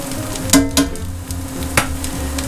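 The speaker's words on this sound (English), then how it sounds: "I'm only going to give that garlic around a minute just to start to cook" Garlic sizzling steadily in a hot frying pan, a soft continuous fry with a few brief clatters of stirring on top.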